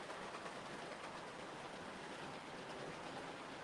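An LNER A4 model locomotive runs on a model railway track with a steady, even rolling hiss and rattle, faint and continuous, with no voices over it.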